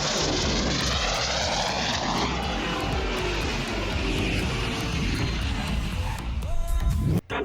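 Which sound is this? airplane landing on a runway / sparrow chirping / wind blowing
airplane landing on a runway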